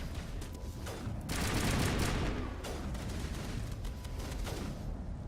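Rapid bursts of rifle gunfire in the video game Mass Effect, with several loud cracks close together in a short volley.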